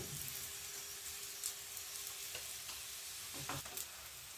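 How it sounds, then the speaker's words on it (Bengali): A methi aloo paratha fries in oil in a pan, giving a faint, steady sizzle with a few brief scrapes and presses near the end, quiet and close with no talking. "দেখুন একটু চেপে চেপে ভাজতে হবে, দুই দিকে এইভাবে চেপে চেপে ভেজে নিতে হবে।"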